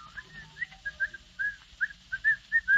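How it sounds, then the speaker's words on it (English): Someone whistles a bright, bouncy tune alone, a string of short chirpy notes rising and falling in a steady, cheerful rhythm. "whistling cheerfully"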